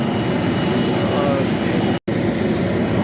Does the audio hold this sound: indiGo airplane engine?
yes